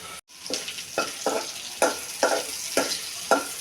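Onion and prawns fry in a pan, sizzling steadily while a spoon stirs them in six or seven rhythmic scraping pulses, close and fairly loud.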